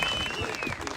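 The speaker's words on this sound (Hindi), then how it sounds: "जोरदार ताली" A crowd claps at a political rally in Shimla as society members are honored, the brief, moderately faint applause mixed with background murmur and a sustained tone.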